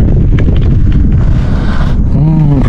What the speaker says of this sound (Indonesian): Badai Mas, angin. Bukan badai sih, angin.